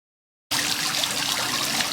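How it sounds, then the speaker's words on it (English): Water trickles and splashes steadily in a fountain at a winery, starting abruptly after a brief silence and continuing as a soft, even burble at moderate distance. "we're sitting here right next to a fountain"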